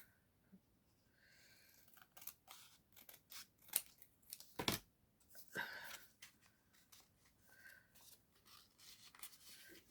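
Scissors snip through a craft tag in a quiet room, giving a series of close, sharp cuts and rustles, with one especially crisp snip near the middle and softer handling noises after.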